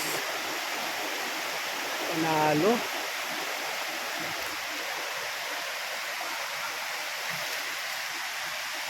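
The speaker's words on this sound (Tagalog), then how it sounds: "Yan na ang Pinabuan Falls." Pinabuan Falls roars steadily and loudly the whole way through, with a brief voice rising over it near the start.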